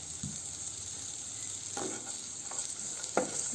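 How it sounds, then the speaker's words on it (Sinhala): Ginger, garlic and green chillies frying in a pan for bhindi masala, heard as a steady close sizzle and hiss with a few soft stirring scrapes and no talk. "රන්වන් පාට වෙනකන් වගේ ඒකත් ෆ්‍රයි කරගන්න"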